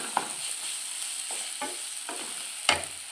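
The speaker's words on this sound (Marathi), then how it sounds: "मसाला टाकून एक मिनिटभर आपल्याला परतून घ्यायचा आहे" Egg masala spices with turmeric, salt, and black and red masala fry in a pan, giving a continuous close sizzle cut by repeated scraping stirs and a sharp utensil knock near the end.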